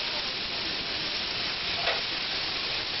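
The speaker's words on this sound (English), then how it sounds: "Just give these a little stir" Hot Italian sausage and peppers sizzling in a pan, a steady close hiss and crackle throughout with a brief stirring scrape partway through.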